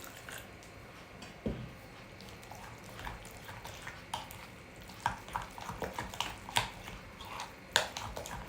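A spoon stirs rice batter in a bowl for a Gujarati rice snack, giving soft scraping and irregular light clinks that grow more frequent toward the end, with no talking.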